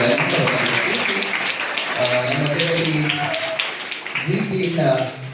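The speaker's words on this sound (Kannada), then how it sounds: "ನಿಮ್ಮೆಲ್ಲರ ಚಪ್ಪಾಳೆ ಮೂಲಕ" Audience applause at a welcome and felicitation event, a sustained wash of clapping heard behind a speaker's voice that continues over it.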